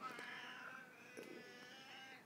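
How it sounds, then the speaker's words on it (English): A cat lets out a drawn-out, howling screech of a meow, strained and rising in pitch, repeated in a couple of short wavering bursts, fairly faint and with no one talking. "what is that cat sound?"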